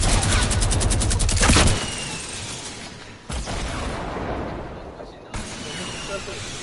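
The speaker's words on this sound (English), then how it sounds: "Hey, I got the minigun" A minigun fires in a video game as a loud, rapid burst of automatic gunfire at the start, then gives way to rumbling booms and explosion-like bursts and battle noise.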